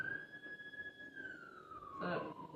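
Police or ambulance siren passing outside, a faint wailing tone that holds steady and then slides downward as it moves away, with a brief burst of other noise near the end.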